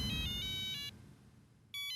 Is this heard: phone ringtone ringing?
yes